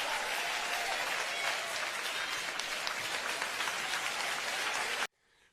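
A church audience applauds, a dense, even wash of many hands clapping that sounds fairly distant and continues steadily for about five seconds before cutting off abruptly.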